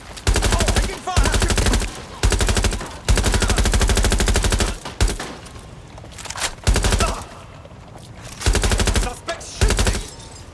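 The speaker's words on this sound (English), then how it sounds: "Suspects shooting!" Loud machine gun fire in Watch Dogs: Legion, long sustained bursts repeating throughout with short gaps between them, rattling close and dense.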